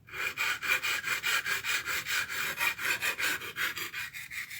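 A knife is stroked back and forth on a 400 grit whetstone, giving a steady rhythmic scraping rasp with about four strokes per second, close and clear, with no speech.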